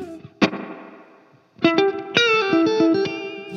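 Electric guitar played through a Laney Loudpedal with reverb: a struck chord rings and decays with a reverb tail, then a run of loud, sustained distorted notes and chords follows, with no talking.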